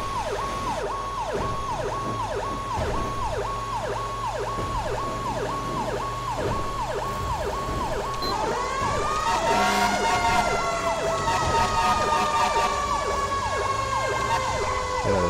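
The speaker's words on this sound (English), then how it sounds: "just sit back, relax, and enjoy the sirens and the air horns." A fire engine siren in GTA 5 wails in a steady, rapid cycle, then sweeps into a long rising howl layered with blaring air horn blasts, loud and close throughout.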